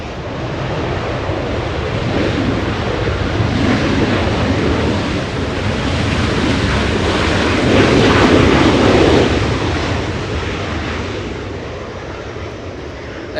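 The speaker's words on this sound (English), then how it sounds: "Dreamliner Turkish flying to Istanbul." A Turkish Airlines Boeing 787 Dreamliner roars past near Los Angeles International Airport, its engine noise broad and steady, swelling to a peak and then fading, with wind buffeting the microphone.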